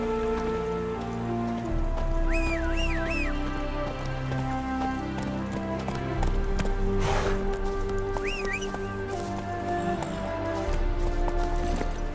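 Horse hooves galloping in The Witcher 3: Wild Hunt, a continuous rhythmic clatter of hoofbeats running under a layer of game music, with a couple of brief whinnies, no speech.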